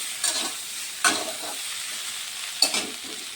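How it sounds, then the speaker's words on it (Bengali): Potatoes and cauliflower sizzle steadily in a hot pan, with three scraping stirs breaking the constant crackle. "এখন এগুলোকে ভালোভাবে ভেজে নিতে হবে"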